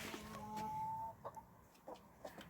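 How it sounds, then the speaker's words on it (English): Hens in a backyard garden run make a few short, soft clucks and murmurs at close range, with one longer drawn-out call near the start and scattered brief clucks after. "Say hello to the chickens."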